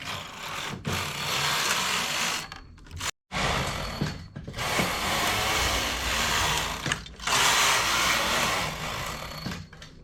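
A knitting machine carriage slides back and forth knitting rows of a one-piece lace yoke, each pass a loud mechanical rasping swish with a clatter, separated by brief pauses, about four passes.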